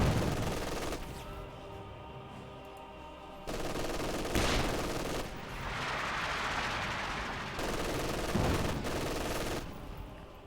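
An artillery or heavy mortar barrage in the war game Company of Heroes: loud, continuous battle noise with booming impacts and bursts of machine-gun fire rolling through in overlapping waves.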